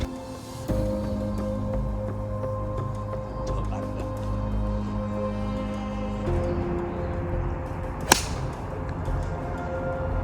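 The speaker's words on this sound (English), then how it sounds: "we just hit our shot, landed just short" A golf ball struck on a golf course, a single sharp crack about two-thirds through, standing out briefly over a steady hum of background sound.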